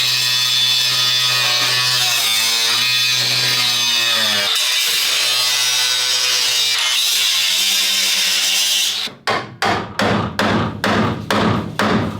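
A loud power tool grinds steadily through car body metal on a BMW E30 325i, its pitch dipping under load, then gives way to a rapid series of harsh rhythmic cutting strokes.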